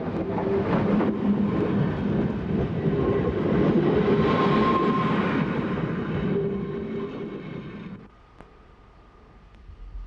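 A historic 1920 electric locomotive hauls a BLS guest train with a modern 1986 saloon-bar coach, a loud sustained rolling rumble with rhythmic wheel clatter and faint whining tones, passing close and then dropping off near the end.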